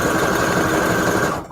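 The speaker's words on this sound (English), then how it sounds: "Just a regular zigzag stitch." A sewing machine sews a wide zigzag stitch at stitch length 2 and width 5, giving a loud, steady, close mechanical whir that runs continuously for over a second before stopping.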